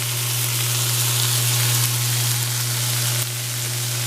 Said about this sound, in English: and then I'm going to add my garlic.